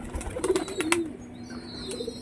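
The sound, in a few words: pigeons cooing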